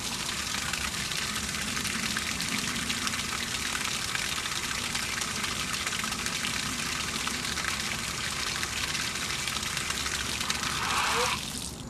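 Water rushes steadily through an opened valve, a constant close gush that stays loud for the whole stretch before easing slightly at the very end.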